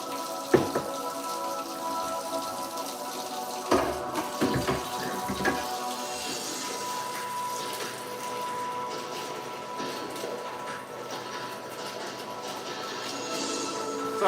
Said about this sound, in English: So the water is currently on.